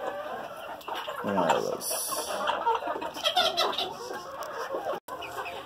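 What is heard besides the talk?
chickens clucking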